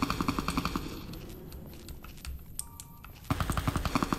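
Rapid automatic gunfire in the video game Fallout New Vegas, a dense rattling stream of shots that drops away mid-clip and returns loud at the end, with some quieter scattered pops between.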